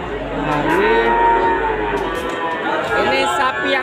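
Cattle low loudly and steadily at a busy livestock market in Situbondo, with long drawn-out moos close by while a crowd chatters and people talk in the background.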